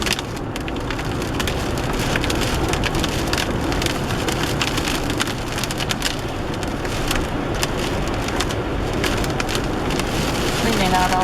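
Steady rain falls across a Pacific Northwest coastal setting, a dense, even hiss that stays constant and fairly loud throughout, with scattered patters and drips mixed in.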